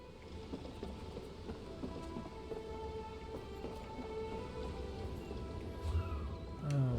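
Steady rain pours down with low rumbles of thunder during a storm in The Elder Scrolls Online, a continuous wash of falling water throughout.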